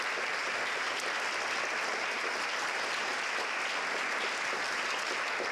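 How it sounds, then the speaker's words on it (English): Audience at an award ceremony for outstanding educators applauds, producing loud, continuous, dense clapping that fills the room evenly from start to finish, with no talk on top. "So if you could please clap for Rick, I would appreciate that as well."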